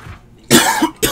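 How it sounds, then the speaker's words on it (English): A person coughs twice in quick succession, loud and close: a longer, harsh burst followed after a short gap by a second, sharper cough, with quiet room tone before them and no talk. "Coughing up a storm right now."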